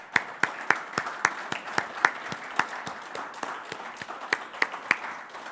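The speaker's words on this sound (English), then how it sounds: "I would suggest that we give all of them a big applause." Applause from an audience at an honorary doctorate ceremony, with distinct close claps landing in a quick, fairly regular rhythm over a softer background of wider clapping, with no talk.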